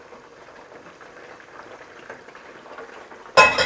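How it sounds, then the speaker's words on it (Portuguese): Cornmeal (fubá) being stirred into cold water for angu, giving a soft, steady wet swishing and scraping at close range, with no talk, ending in a brief louder clatter. "Então eu mexo com água fria."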